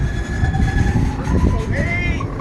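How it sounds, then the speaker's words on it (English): A freight train with an empty well car rumbles past close by, low heavy rolling noise with a high whine and squeal, while voices talk over it. "That's my train!"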